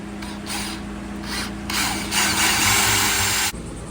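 A power drill whirs in several bursts of rising and falling intensity as it bores holes into a Bay Craft 17'5 skiff hull, close and fairly loud, with short pauses between runs.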